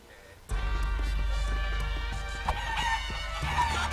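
Chickens cluck and a rooster crows in the Guacamelee video game, several loud overlapping fowl calls repeating over game music and effects.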